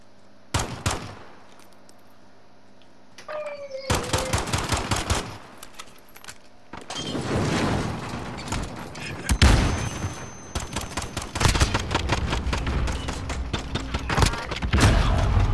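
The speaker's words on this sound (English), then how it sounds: "I shot this guy about 4 times, man." Gunfire in Call of Duty Modern Warfare during a tournament match: rapid automatic bursts and single shots, loud and dense, sometimes sustained rattling fire with a few booms, brief pauses between volleys.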